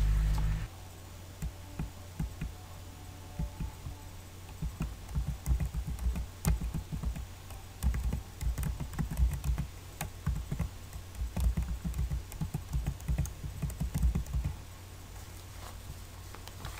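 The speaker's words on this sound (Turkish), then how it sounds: "Paylaşım yapmak istediğimiz kişilerin e-maillerini yazıyoruz." Email addresses are typed on a computer keyboard: after a quiet start, bursts of rapid key clicks patter on for about ten seconds, close and fairly soft, with no voices.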